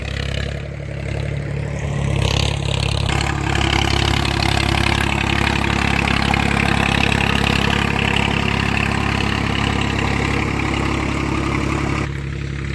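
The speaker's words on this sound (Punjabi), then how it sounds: "ਪੂਰਾ ਟਰੈਕਟਰ ਬਹੁਤ ਵਧੀਆ ਚੱਲ ਰਿਹਾ" A tractor engine runs steadily nearby during moong bean sowing in a Punjab field, a loud, constant low chugging idle that holds for the whole stretch with no talking.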